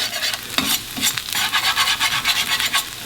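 A metal spatula scrapes browned, sticking tempeh across a hot pan, giving repeated rough scratching strokes close up over a steady sizzle of frying.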